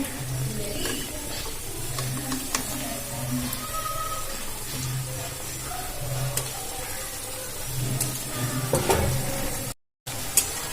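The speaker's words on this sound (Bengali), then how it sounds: "এভাবে ভালো করে দুদিক ভেজে নিতে হবে লাল লাল করে" Semolina langcha sweets fry in hot oil, a steady close sizzle running throughout with occasional scrapes and stirring clinks, briefly cutting out near the end.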